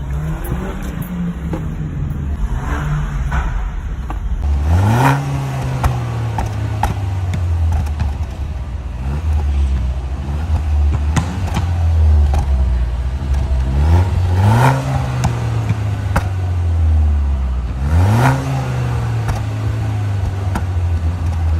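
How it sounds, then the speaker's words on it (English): A BMW 1 Series with its exhaust resonator deleted revs up from a cold-started idle. The low, rumbling idle rises sharply into several swelling revs spread across the clip, each falling back to idle, close and loud with no talking. "I'm gonna quickly cold start a few now, give it a few revs."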